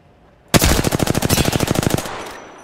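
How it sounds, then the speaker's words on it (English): Automatic weapon fire in Apex Legends, a loud, close burst of about twenty rapid, evenly spaced shots lasting around one and a half seconds, then a fading tail. "Listen up, I'm getting shot at"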